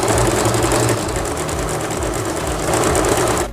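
An Usha Janome sewing machine stitches fabric, a loud continuous rapid mechanical clatter of needle and gears running steadily from start to finish with no talking.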